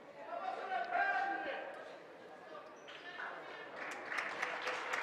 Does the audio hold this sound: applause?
yes